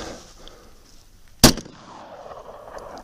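A single loud 9mm pistol shot from a Glock G17 with a 4.5-inch factory threaded barrel, firing 127-grain +P+ Ranger-T ammunition, cracks sharply once midway through, with a low steady background hum before and after.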